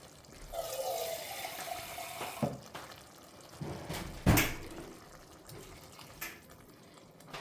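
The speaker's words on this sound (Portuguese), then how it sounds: "Eu vou adicionar um pouquinho mais de água." Water pours into a cooking pot of meat and diced tomato on the stove, a soft splashing fill followed by a louder sudden splash and quieter clinks and stirring; no speech.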